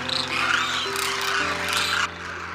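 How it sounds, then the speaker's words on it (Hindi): Demoiselle cranes in Rajasthan give sharp, varied, rasping calls that overlap continuously over a steady background hum. "डेमोइसल क्रेन बेहद सामाजिक पक्षी हैं और इनकी आवाजें काफी विविध और तीखी होती हैं।"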